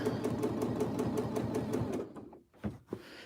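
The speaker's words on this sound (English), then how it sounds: "Stitch around my applique." A sewing machine stitches around an appliqué during free-motion quilting, with a rapid, even needle chatter for about two seconds, then stopping and leaving a few soft clicks and thumps.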